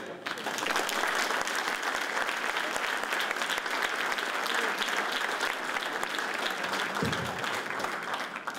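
A crowd applauds loudly and steadily for several seconds before the clapping thins out near the end.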